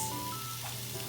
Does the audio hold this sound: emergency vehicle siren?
no